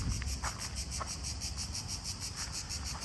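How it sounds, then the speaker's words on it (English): Crickets chirp in a steady, fast pulsing trill, faint and outdoors, with low background rumble and no voices. "Hear the crickets."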